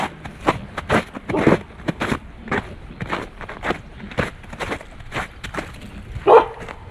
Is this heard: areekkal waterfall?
no